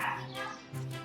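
A six-week-old Yorkie puppy gives two short, faint yips in quick succession, brief and high, with a voice nearby.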